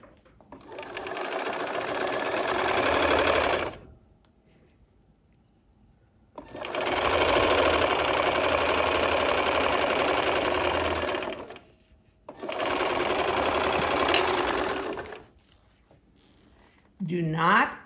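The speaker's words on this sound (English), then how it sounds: "So now I would take and sew this striped fabric. I think I'll do that right now." A sewing machine stitching striped fabric for an improvised Christmas tree quilt, three long steady whirring runs with short pauses between them, loud and close, with a voice speaking briefly near the end.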